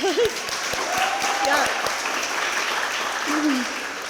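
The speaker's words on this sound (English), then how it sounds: "give that a round of applause" Audience applause breaks out at a presentation event, a steady wash of clapping hands with some voices mixed in, moderately loud and continuous for about four seconds.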